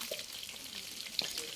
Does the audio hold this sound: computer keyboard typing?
no